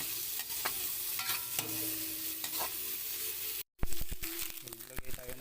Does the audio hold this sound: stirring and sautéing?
yes